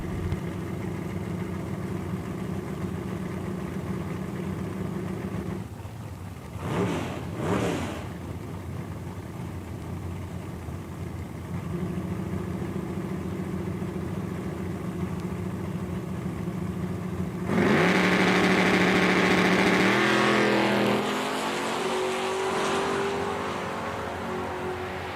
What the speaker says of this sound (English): Valerie in the 2010 model Camaro. Tyler's got the 82 Regal in the far lane.